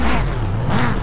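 Rallycross cars sit on the starting grid with engines revving, a steady loud motor drone with rising and falling pitch from the revs, close by and with no talk over it.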